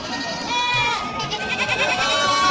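A goat bleats loudly and nearby in a wavering, drawn-out cry, with other bleats and farm noise around it, at a Bangladeshi village goat market before Eid al-Adha.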